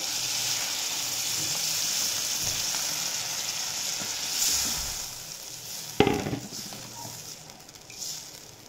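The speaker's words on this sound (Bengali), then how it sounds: "এখন এই নারকেলের দুধটাকে আমি পটলের মধ্যে দিয়ে দেব।" Pointed gourd curry simmering in a pan as coconut milk goes in, a steady bright sizzle and bubbling with a sudden splash and clatter midway, then continued hissing.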